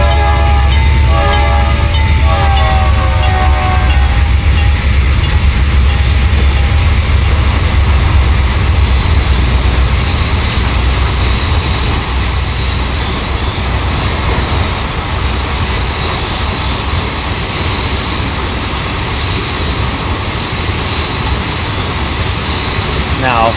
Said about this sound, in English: 496 is a regular as-needed grain train that runs from Cincinnati, Ohio